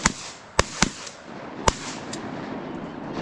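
Shotgun blasts at teal ducks during a Minnesota teal-season opener hunt: four or five sharp shots spaced irregularly over a few seconds, the last ones quieter and farther off, with no talk over them.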